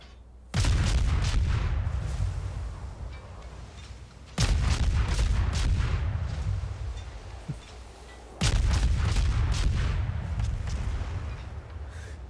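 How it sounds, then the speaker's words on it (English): Naval guns in World of Warships firing at a fast-moving destroyer: three heavy, loud salvos roughly four seconds apart, each a deep booming blast followed by a long rumbling decay, with no speech. "shooting a fast-moving destroyer is a little difficult. But we do manage to get some rounds on them"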